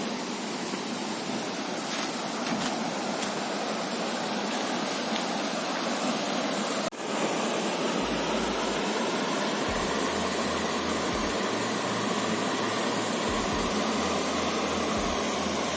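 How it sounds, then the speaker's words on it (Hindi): Deojharan waterfall in Deogarh, set in green natural surroundings, pours steadily as a broad, continuous rush of water, close and loud throughout, with a deeper low rumble joining partway through and no voices. "पानी रो भी बहुत कुड़ू कुड़ू जेन साउंड टा माइंड के पूरा रिलैक्स कर देसी।"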